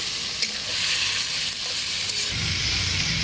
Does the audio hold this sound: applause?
no